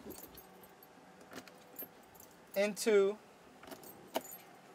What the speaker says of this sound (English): First thing you want to do is go ahead and put your three keys